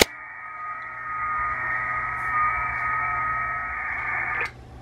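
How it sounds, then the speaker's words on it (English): FT8 digital mode signal squealing from an amateur HF radio in a shop, a steady layered tonal hum with a low background hum beneath, cutting off abruptly near the end. "That noise you can hear in the background is FT8."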